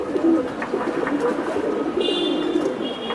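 Giribaz pigeons coo steadily at close range, a continuous low murmuring chorus filling the whole stretch, with a brief higher tonal sound entering near the end.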